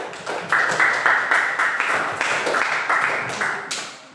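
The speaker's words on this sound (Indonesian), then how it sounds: "Kita beri aplaus terlebih dahulu." Classroom applause at a junior high school, a steady wash of many hands clapping together for about four seconds, fairly loud and close with no talk over it.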